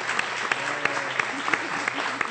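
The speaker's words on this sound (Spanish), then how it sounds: "recibimos a Adriel con un fuerte aplauso en nuestra comunidad" A Jewish community applauding to welcome a newborn boy: close, continuous clapping from a gathered group, with a few sharp individual claps standing out and faint voices underneath.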